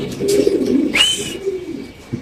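Pigeons coo at a home pigeon farm, a low, throaty rolling call with a brief higher note midway, close and clear against a quiet background.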